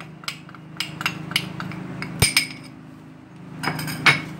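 Egg and cornflour being mixed into a chicken marinade in a metal bowl, heard as repeated clinks and taps of a utensil against the bowl, irregular and close, with a low hum underneath and no talking.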